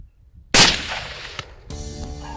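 A single loud rifle shot cracks out during an African hunt, sharp and close after a short quiet lead-in, with its report decaying into the surroundings, followed by a faint metallic click and clattering handling noise.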